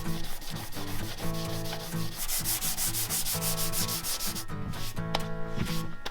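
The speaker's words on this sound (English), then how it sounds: "the reason I'm using a little block is I don't wanna get super crazy and scratch the entire quarter panel" Hand sanding the quarter panel of a 2022 GMC Yukon Denali with a small sanding block, using 180-grit paper: close, rhythmic back-and-forth rasping strokes, loud and steady, with quicker scrubbing near the end.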